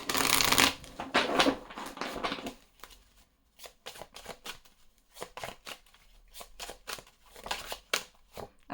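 A deck of oracle cards, the Oracle des Miroirs, is shuffled up close in quick riffling bursts with brief pauses between, crisp and fairly quiet, with no talking.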